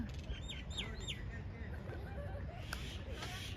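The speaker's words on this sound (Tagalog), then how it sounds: "Doon ang daming mga ibon." Several birds chirp and tweet in quick repeated calls, moderately close, over a background murmur of distant voices and traffic.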